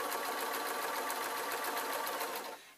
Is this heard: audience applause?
no